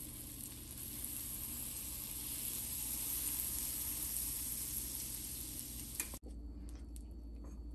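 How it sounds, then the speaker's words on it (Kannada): Butter sizzling steadily in a hot pan on a stove, a constant hissing fry that cuts off abruptly near the end, followed by faint clicks. "ಒಂದು ಸ್ವಲ್ಪ ಬಟರ್ ಹಾಕ್ಕೊತಾ ಇದ್ದೀನಿ."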